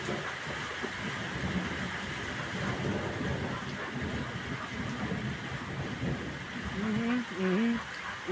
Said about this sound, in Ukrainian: вже вже грім далі вже віддаляється вже від нас